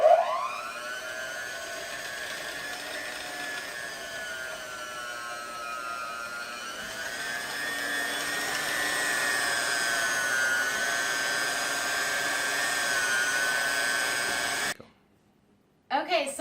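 A blender whirs steadily while whipping lavender magnesium body butter, its motor pitch rising slightly as it runs for about fifteen seconds before cutting out abruptly, followed by faint clicks.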